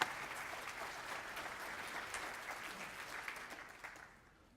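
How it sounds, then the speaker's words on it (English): An audience claps in a sustained burst of applause that fades out toward the end, heard clearly without talking. "You give her a round of applause."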